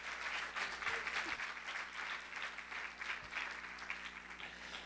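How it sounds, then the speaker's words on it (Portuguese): A church congregation gives a round of applause during a sermon, a steady, moderately loud clapping that carries on for several seconds with a low hum and faint voices beneath. "Dê uma salva de palmas, meus queridos."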